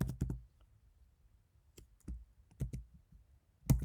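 Sparse keystrokes and clicks on a computer keyboard while Python code is typed, a few quick taps in small clusters separated by pauses, close and fairly quiet.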